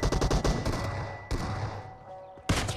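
Gunfire in a shooter video game featuring the Kar98 sniper rifle, a loud rapid burst of shots followed by a single sharp report, then another blast at the end, close and without talk.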